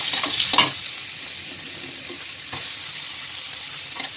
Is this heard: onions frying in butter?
yes